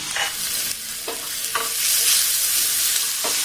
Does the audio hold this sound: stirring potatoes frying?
yes